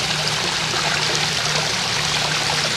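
Water flows steadily through a DIY Baki trickle filter water feature, a continuous close splashing and gurgling trickle with no pauses and no voices.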